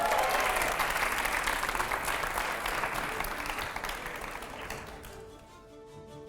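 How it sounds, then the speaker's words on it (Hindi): Loud sustained applause from a large audience, clapping steadily before gradually thinning and fading out near the end. "जोरदार तालियां।"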